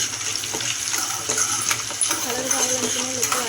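Dried red chillies fry in hot oil in a pan for lemon pulihora, giving a steady, close sizzle with light stirring clinks and scrapes throughout, and no talking.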